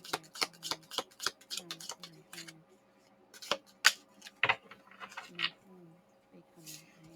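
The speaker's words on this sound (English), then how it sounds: "I'm going to pull three of these cards to find out what we're talking about." Tarot cards shuffled and drawn from a deck, a run of soft riffling flicks and taps close by, with a voice speaking quietly between them.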